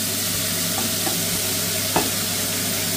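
Steak searing in a hot pan just after being flipped, giving a steady, close, even sizzle with a few faint stirring clicks and one brief louder crackle near the end, no voices.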